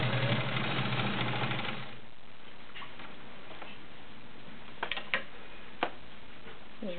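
A vintage Kenmore Model 1750 heavy duty 1.2 amp sewing machine stitching fabric on a stretch stitch, a steady mechanical whir with a few sharp clicks and ticks, close and moderately loud, with a brief stretch of talk at the start.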